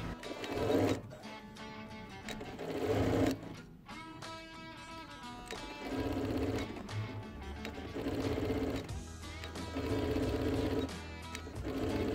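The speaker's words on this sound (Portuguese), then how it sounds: "Prontinho, costurei as alças." A sewing machine stitching fabric bag handles, with repeated bursts of rapid mechanical needle clatter separated by short pauses, close and fairly quiet.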